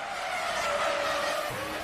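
Race car skidding under heavy braking on dry tyres over a wet, water-covered track, a short loud tyre screech with engine noise lasting under two seconds.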